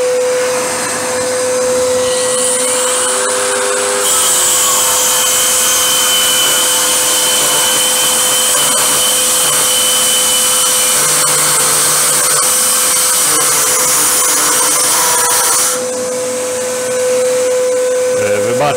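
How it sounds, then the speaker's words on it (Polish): A Metabo KS 18 LTX 57 cordless circular saw cuts through wood with a shop vacuum attached, giving a loud, sustained whine that spins up, holds for about ten seconds and then winds down under a constant vacuum roar. "zakładam pilarkę i zobaczymy, jak to pójdzie."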